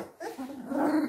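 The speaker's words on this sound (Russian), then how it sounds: "Рычат. Ночью лают." Dogs growling in an outdoor enclosure at a country house, a low rumbling growl that swells and grows louder over about a second, close by with no talk.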